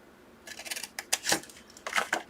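Scissors cutting paper along a score line: a few crisp, close snips in quick succession, quiet and isolated, with no speech.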